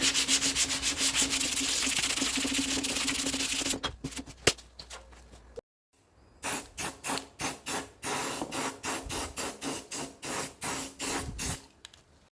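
Plastic is sanded by hand during body repair work, first a continuous rough rubbing, then after a short pause a series of rhythmic back-and-forth strokes, close and moderately loud.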